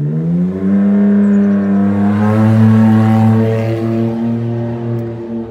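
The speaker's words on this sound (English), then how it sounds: "look at motorcycles driving around" An engine passing close by on a North Texas street, a loud sustained tonal hum that holds steady and then fades slightly as it moves away.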